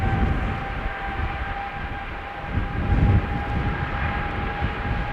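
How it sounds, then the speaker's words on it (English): A 19-year-old KLM Boeing 777-200 departs Amsterdam Schiphol's runway 36L outbound to JFK. Its jet engines give a loud, steady roar with a faint whine, swelling slightly midway, with no voices. "777 from KLM, outbound to JFK, 777-200 KLM flight 641"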